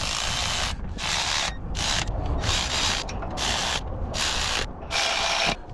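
A ratchet wrench tightens bolts in a star pattern on a 1990 Ford L9000 Louisville truck with a CAT 3406B engine, giving about seven close, loud bursts of rapid clicking separated by short pauses.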